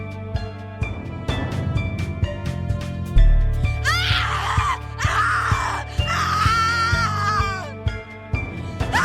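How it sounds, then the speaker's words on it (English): A woman screams and wails in anguish in The Cat Lady horror game, long drawn-out cries rising and breaking over a dark rhythmic music score with heavy percussion hits. "Your scream is like a poem without words."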